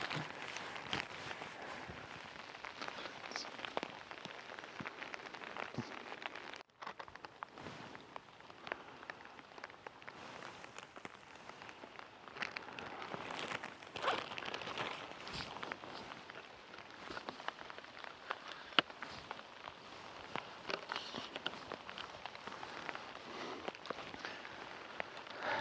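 Rain falls in a forest while someone walks through it, a faint, steady patter of drops with scattered soft footsteps and occasional sharper drips.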